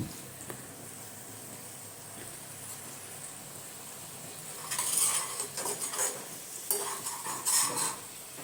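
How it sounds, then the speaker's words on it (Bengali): Spice paste for a traditional Thakurbari-style eggplant kalia fries quietly in a pan, then a utensil scrapes and stirs it loudly in bursts over a soft sizzle during the second half. "দিয়ে ভালো করে মশলাটা কষিয়ে নেব।"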